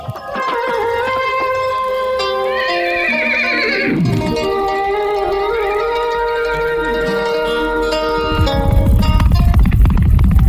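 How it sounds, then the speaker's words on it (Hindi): A cartoon sound effect of a horse: a loud, drawn-out whinny that rises and falls for several seconds, then breaks into a burst of hoofbeats at the end. "बाबा भारती सुल्तान की पीठ पर सवार होकर घूमने जा रहे थे"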